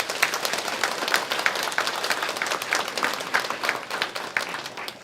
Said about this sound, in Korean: 우리 감사와 환영의